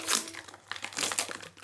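Plastic packaging crinkles and crackles as a motorcycle brake arm is pulled free, in bursts of close, sharp rustling with short pauses between them.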